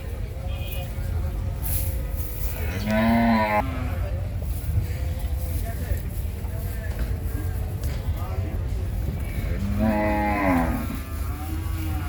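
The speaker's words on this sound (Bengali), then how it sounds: "আর এ পাশে যে গরুগুলো দেখতে পাচ্ছেন এগুলো হচ্ছে ইন্ডিয়ান গরু" Indian cattle at the Gabtali livestock market in Dhaka give two long, drawn-out moos several seconds apart over a constant rumble of crowd and traffic noise, fairly close and loud.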